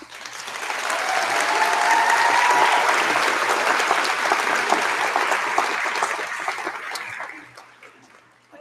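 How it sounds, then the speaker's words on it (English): Graduates applaud themselves at a University of Guelph convocation in War Memorial Hall. Applause swells quickly into a full, sustained roar from a large crowd, then tapers off near the end. "Give yourselves a round of applause."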